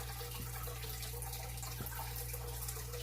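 Water running steadily from a tap, a soft continuous splash and trickle, faint and alone with a low hum underneath.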